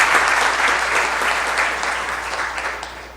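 Loud, sustained applause from an audience fills a formal, solemn council session, dense and continuous before slowly tapering off.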